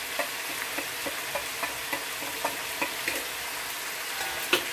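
Home-style local chicken curry sizzles and fries in a pan while a spoon stirs it in regular scrapes, close and clear, with no talking.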